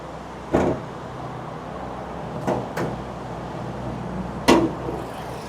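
Hood of a used Toyota Corolla Altis being opened: a few distinct metallic clunks and latch knocks spaced apart, near and fairly loud against a quiet background.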